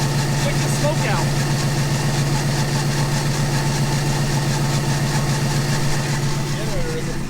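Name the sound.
generator running, struggling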